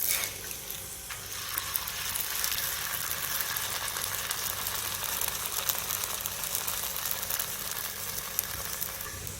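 Thiruvathirai adai flatbread fries in ghee on a hot pan, giving a continuous close sizzle with fine crackling pops and no speech.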